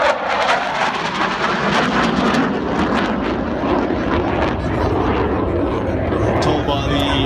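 A Saab Gripen fighter jet performs a roll to inverted during an air show, its engine producing a continuous loud roar with wind buffeting and a commentator speaking over it.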